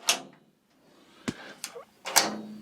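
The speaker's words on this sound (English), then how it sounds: "But we shut this door." A homestead door shuts with a sharp knock near the middle, set between scattered softer bumps and rustles, close by with no talking.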